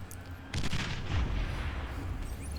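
Artillery blind-fires onto a base in the Beyond All Reason strategy game, a burst of heavy booms and rumbling impacts that swells after a brief quiet and lingers as a dense roar.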